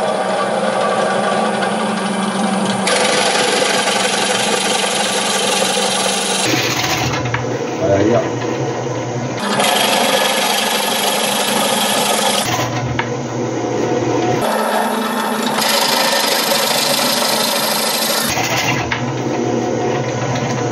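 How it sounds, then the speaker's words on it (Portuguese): Electric drill boring through small wooden balls for a multipurpose or laundry basket, a loud steady whine that runs in long stretches and briefly dips and restarts between cuts, with someone talking over it. "daí eu não preciso parar toda vez a furadeira para estar tirando a bolinha"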